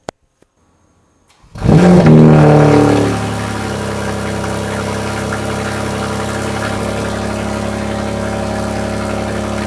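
A BMW G80 M3 with a 4-inch aftermarket exhaust roars to life with a loud rev, then settles into a steady, rumbling idle with a deep exhaust tone.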